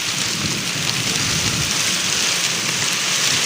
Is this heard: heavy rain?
yes